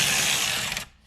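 A ratchet turning a bolt out on a 2014 Ford Explorer during water pump work gives a loud, rapid steady clicking for most of the moment before it stops abruptly, with no talk over it.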